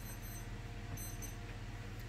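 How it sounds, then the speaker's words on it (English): A wristwatch alarm beeps repeatedly in a quiet indoor room, a faint, high, regular pattern of short electronic tones over a low background hum. "My watch is beeping and I don't know how to stop it."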